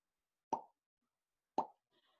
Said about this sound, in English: So some of these mud pots sound like this.